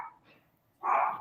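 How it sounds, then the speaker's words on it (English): A dog gives a single short bark close by, after a brief softer yelp, heard over a quiet room. "I'm sure you could hear the dog barking."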